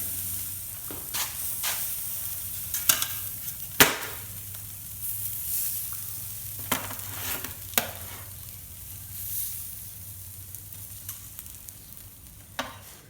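Ribeye steaks sizzle on a Ñuke Delta grill in a steady, faint hiss and crackle, with occasional sharp ticks and clanks of tools scraping the grate scattered across the cook.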